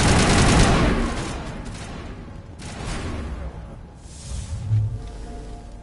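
Rapid automatic gunfire from a Mass Effect firefight, dense and loud at the start, then fading into rumbling bursts and scattered impacts over a continuous battle din.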